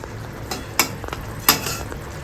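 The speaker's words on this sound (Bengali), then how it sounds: "ভাজা ভাজা করে চিকেনটা ভেজে নিচ্ছি আমি" Chicken for a chicken korma fries in a pan, a steady low sizzle broken by two sharp utensil scrapes or stirs, close and fairly quiet, with no talking.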